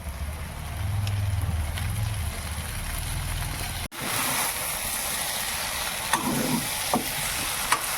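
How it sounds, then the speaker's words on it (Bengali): Vegetarian soybean curry frying in a pan as sauce goes in, a dense, continuous close sizzle broken by one sharp click partway through, then a few faint clinks. "বন্ধুরা এবার আমি একটু সস দেব।"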